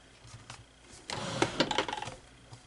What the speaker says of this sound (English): I'm just going to sew on this last part, this side.